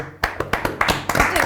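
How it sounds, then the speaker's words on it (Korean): A few people clap in a loose, uneven burst during a casual studio chat about football, sharp close slaps scattered over a second and a half with voices talking over them. "박수 치죠."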